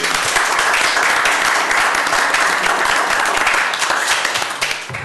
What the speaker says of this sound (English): So let's give him a round of applause too.